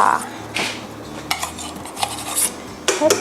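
Butter whisked by hand with a metal whisk in a bowl for cookie dough, quick uneven clinks and scrapes of wire against the bowl, close and fairly loud.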